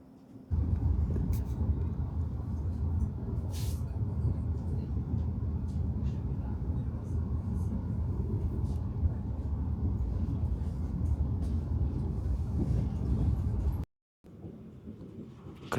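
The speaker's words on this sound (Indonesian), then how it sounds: "Ternyata kereta berhenti di stasiun ini jadwalnya lumayan lama teman-teman" A steady low rumble of a Frecciarossa train standing still at Roma Termini station, an even mechanical hum that continues without change, briefly cutting out near the end.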